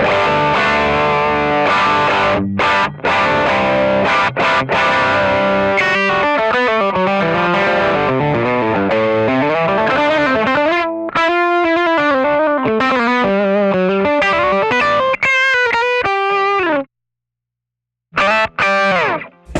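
Heavily distorted electric guitar plays loud sustained chords and bending lead notes, with a couple of abrupt pauses near the end.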